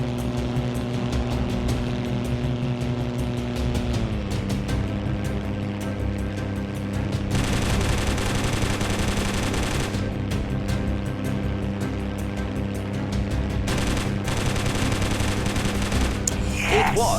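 Aircraft machine guns fire in the video game 303 Squadron: Battle of Britain, with long rattling bursts over a steady droning engine hum, the firing starting and stopping in several stretches.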